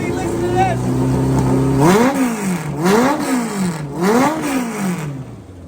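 A Kawasaki KZ motorcycle engine, first idling and then blipped through three rising and falling revs, each climbing sharply and dropping back, loud and close.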